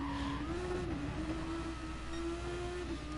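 A race car in a racing video game bears down close behind, its engine holding a steady, droning pitch that dips briefly before climbing again, loud and continuous with no talk over it.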